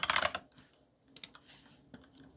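Quiet typing on a computer keyboard, a quick burst of keystrokes followed by a few scattered taps, close and alone.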